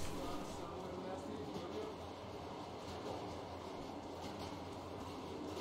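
Steady rumbling of a train ride in the Metro Exodus video game, a continuous low rolling drone with faint rattles, heard quietly beneath conversation between players.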